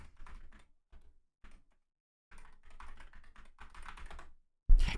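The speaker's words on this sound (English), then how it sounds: "Can you hear the typing? Does the typing sound different now?" Rapid keystrokes on a computer keyboard come in short bursts and then a longer stretch of steady typing, close and fairly quiet, ending in a louder thump.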